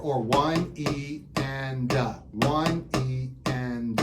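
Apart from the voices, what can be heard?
No distinct noise like a dog, phone or traffic.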